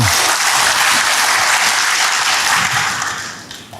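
Loud, sustained applause from a church congregation, dense clapping filling the whole stretch before fading slightly at the end.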